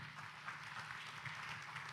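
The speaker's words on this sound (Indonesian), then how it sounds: "tepuk tangan buat Anda" A seminar audience applauds, a faint, distant wash of many hands clapping that runs evenly through the short stretch with no talk over it.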